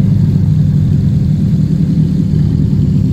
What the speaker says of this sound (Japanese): 爆音仕様の STI。